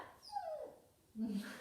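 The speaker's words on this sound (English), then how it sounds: "That's my dog wanting to come in." A dog whimpers and whines at a door, wanting to be let indoors, in high thin whines that fall away and then return once more in a quieter, lower tone, heard at a moderate distance in a calm room during an exercise session.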